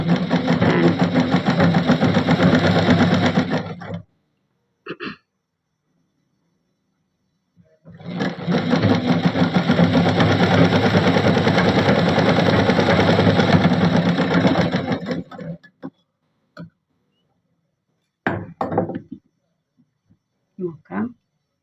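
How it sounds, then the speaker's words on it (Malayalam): A sewing machine stitches fabric edges on all four sides during a tailoring lesson, running in two long steady bursts separated by short quiet gaps, with a few brief clicks near the end. "ലെങ്ത്ത് ഇതുപോലെ നാല് സൈഡിലും ഞങ്ങൾ സ്റ്റിച്ച് ചെയ്ത് എടുക്കണം"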